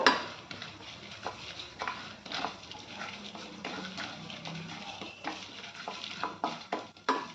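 Tempering spices and chana dal fry in a pan with a soft, steady sizzle. Repeated spoon clinks and scrapes against the metal pan break through it, close and fairly quiet.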